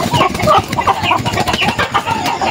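Chickens being caught at night for transport to Manila cluck loudly and continuously, a dense close flock of agitated fowl with overlapping squawks filling the whole stretch.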